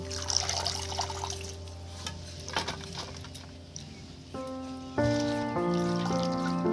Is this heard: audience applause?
no